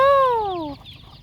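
A chicken in a pen lets out a single loud, drawn-out squawk that slides downward, close to the listener, then fades into soft background noise.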